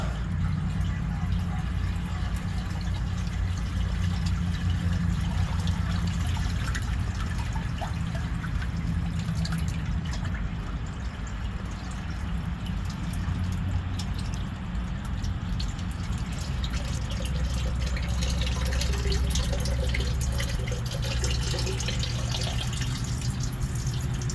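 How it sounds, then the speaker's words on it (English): Water flows steadily and noisily into a sewage pump pit, a continuous rushing and trickling wash with no pause, heard close up. "See the water flowing."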